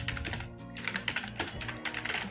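A computer keyboard typed on in quick bursts of crisp, close key clicks at an uneven rhythm. Faint and clear with no talking.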